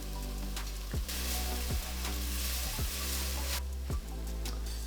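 Fresh ginger dropped into a hot pan for a home-cooked vegan meal, giving a steady broad sizzle with a few soft clinks or taps from utensils, close and continuous with no talking.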